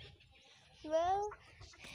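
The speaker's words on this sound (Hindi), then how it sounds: "ये बेचारा एक अकेला मुर्गा बंद पड़ा हुआ है" A lone caged rooster in an Indian village gives a single drawn-out call in the middle, with faint background chatter and rustle around it.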